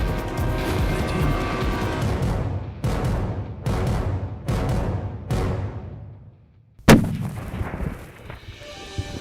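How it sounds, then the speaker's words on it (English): A rifle shot from a mule deer hunt in Montana rings out with a sharp crack followed by a long rolling echo, preceded by several loud booming reports and decays; outdoors, close and powerful. "Okay, I just heard the shot."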